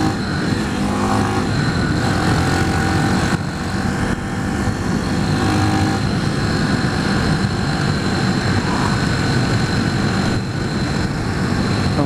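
A Lexmoto 125 Assault motorcycle engine drones steadily while being ridden, loud and close, with a constant buzzing hum and rushing wind noise and brief dips that hint at gear changes.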